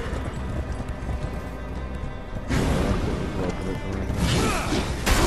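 Horse hooves clip-clop in the video game Darksiders Genesis amid a loud dense game soundscape, rhythmic hoof hits that grow busier and louder about halfway through.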